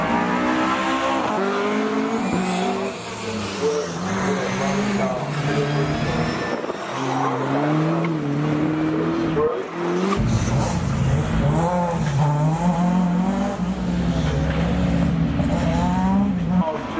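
Rally cars race past at speed on a stage, among them a Mazda MX-5, engines rising and falling in pitch through repeated revving passes, with a commentator talking over the noise.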